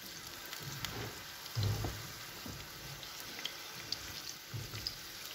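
Eggplant slices in hot oil in a frying pan give a soft, steady sizzle and crackle, faint and close, with a few louder pops and no one talking.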